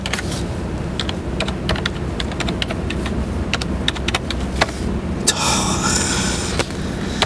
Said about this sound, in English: I'm typing an angle, I can't type